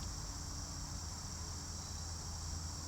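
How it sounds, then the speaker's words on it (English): A faint, steady high-pitched insect drone, like crickets chirping continuously in the distance, with low background hiss and no voices. "the vibrations from the crickets surrounding you"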